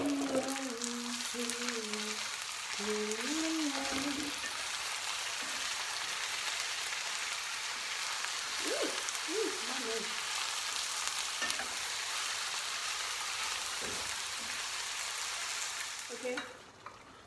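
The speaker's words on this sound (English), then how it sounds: "so now the mince is cooking, of course" Minced meat sizzles and fries steadily in a pan with browned onions, a continuous close crackle, while a voice talks briefly over it near the start and middle.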